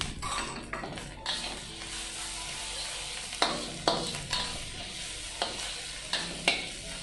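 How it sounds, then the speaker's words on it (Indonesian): Garlic and dried shrimp sizzle and fry in a pan, with a steady crackle and a spatula stirring and scraping against the pan several times in an irregular rhythm, close and alone without talk. "Aku masukkan bawang putih."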